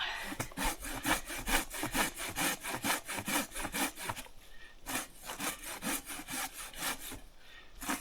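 Rapid, steady cutting strokes of a chainsaw rasp through a fallen log up close, with a brief pause partway before the cutting resumes.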